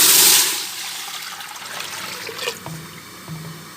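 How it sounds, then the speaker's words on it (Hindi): About two glasses of water gush briefly into a pressure cooker, then settle into softer trickling and sloshing with a few faint clinks. "अब मैं प्रेशर में डालूंगी पानी, तकरीबन 2 गिलास"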